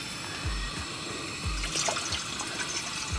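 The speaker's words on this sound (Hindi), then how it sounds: "अब हम पानी डालेंगे चाय के लिए" Water poured into a pot on a camping stove for tea at a lakeside campsite at Pangong Lake, Ladakh: a steady, close trickling splash running throughout with no talk.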